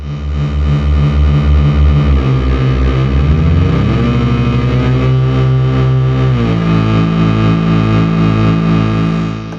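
Moog Rogue analog synthesizer playing a thick, distorted pad with resonant filter sweeps, loud sustained tones that shift pitch in stepped changes, with no talking.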